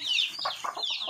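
Chickens on a rural farm in the province give a short run of close, high-pitched clucks and chirps over about a second.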